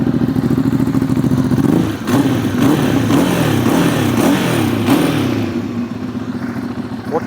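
A Ducati Hypermotard 821 with a loud Termignoni exhaust burbles at idle, then blips the throttle several times in quick rising-and-falling revs, deep and close.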